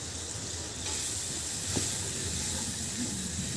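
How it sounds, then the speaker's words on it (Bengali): Fried hilsa fish pieces go into a simmering mustard gravy, giving a steady soft hiss and sizzle throughout, with a brief sharper tap near the middle as a piece drops in. "এবার ভাজা মাছগুলো ওই ঝোলে এক এক করে ছাড়বো।"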